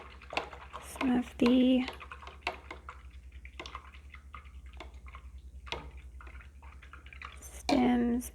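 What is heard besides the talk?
rinsing paintbrush in water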